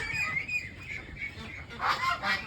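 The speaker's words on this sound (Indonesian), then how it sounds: "saya juga agak kasihan melihat bebek yang kerek-kerek begini mendemo" Meat ducks at feeding time call out loudly, a few ragged honking quacks rising near the end over a low background murmur.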